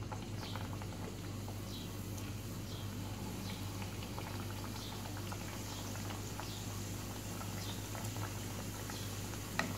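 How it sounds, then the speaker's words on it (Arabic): Pieces of Moroccan sweet dough fry in hot oil, giving a steady dense bubbling and sizzling with scattered small pops throughout, close by and without speech. "خديت واحد الكميه ديال الزيت وسخنتها، وغنقص دابا العافيه ونبدا نرمي هاد الحليوات هادو"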